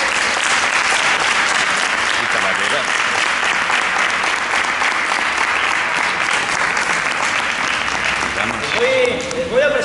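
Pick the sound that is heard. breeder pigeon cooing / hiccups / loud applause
loud applause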